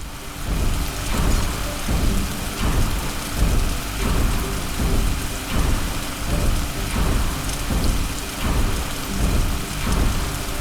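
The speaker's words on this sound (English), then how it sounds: "This rain is harmless to our base, but it decreases solar panel efficiency until it stops." Steady heavy rainstorm in The Riftbreaker video game, a continuous hiss of falling rain with repeated low rumbling pulses of thunder throughout, no voices.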